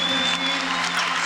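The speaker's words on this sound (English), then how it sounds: "The crowd all on their feet here at Manchester Central. Standing ovation." A large crowd at Manchester Central gives a standing ovation after a world championship squash final, with dense, loud, continuous applause filling the hall.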